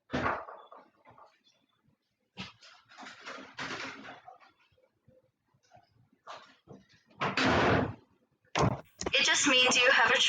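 An interior room door swings shut with a firm thud amid family chatter at home, voices talking before and after, with a louder knock-like bang near the end.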